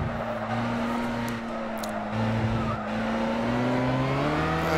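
A race car in Gran Turismo 6 brakes hard, its engine note dropping while tyre squeal cuts through, followed by the engine droning on again steadily at moderate loudness.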